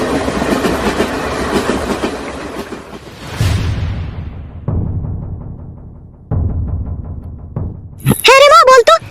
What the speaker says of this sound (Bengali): এখনই ট্রেন আছে, এই ট্রেনে গেলেই আমি তাড়াতাড়ি করে চলে যেতে পারবো